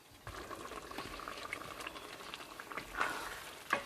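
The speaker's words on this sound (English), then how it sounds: "now it's boiling" A pot of food boils on the stove, giving a faint, steady bubbling and popping close by, with no talk.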